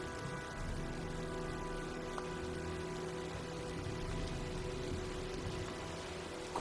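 Steady rain from an approaching storm in a video game hisses evenly throughout, with a faint low hum beneath and no talking.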